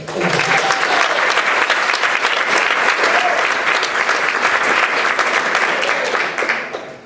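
An audience at a business sales seminar gives a loud, sustained round of applause as a presenter is called up, dense clapping for about six seconds before it tapers off.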